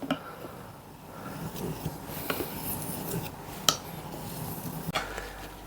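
A kitchen knife is sharpened by hand on an 8000 grit whetstone, giving soft repeated scraping strokes with a couple of sharper metallic clicks, close and fairly quiet, no talk.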